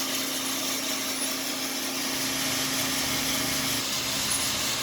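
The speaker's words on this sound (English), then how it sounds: "I also have this fan. It's blowing the chaff out and away into my backyard." An electric fan blowing chaff off green coffee beans as they roast in a backyard, a steady, close whooshing roar with a constant hum that holds unchanged throughout.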